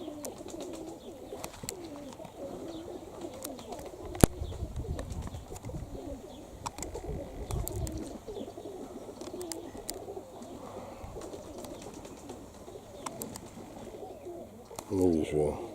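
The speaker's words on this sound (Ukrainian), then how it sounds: "Сегодня нормально полетали голуби." Pigeons coo softly and repeatedly outdoors after their flight, faint and somewhat distant, with a brief sharp knock partway through and a burst of fluttering at the end.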